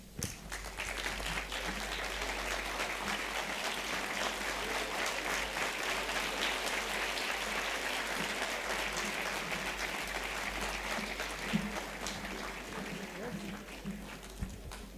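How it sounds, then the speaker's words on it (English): An audience gives a standing ovation to guests at a corporate event: steady, dense clapping holds at an even level throughout, with a few louder claps and faint voices mixed into the crowd. "I now request all of us to give a standing ovation to our guests from Infosys."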